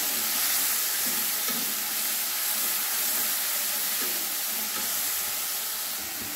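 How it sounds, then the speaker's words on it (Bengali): Spice paste of ground melon seeds, white sesame and poppy seeds frying in oil after a tempering, giving a steady close sizzle and hiss with faint stirring scrapes throughout, no voices. "মশলাটা একটু কষিয়ে নেব"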